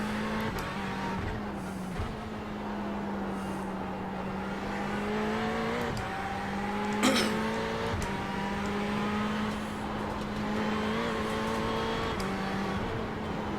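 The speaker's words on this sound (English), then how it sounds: "The GT3 car sounds angrier than the GTE for sure" A GT3 race car engine drones steadily at high revs on the Nürburgring in the iRacing simulator, its pitch rising and dipping through gear changes, with a brief sharp click near the middle and no talk.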